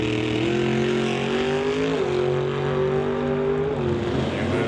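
Drag race between a Roadster and a 1966 Studebaker: a loud, sustained engine roar with steady harmonic drone, pitch rising then dropping near the end as the cars run hard, no talk over it.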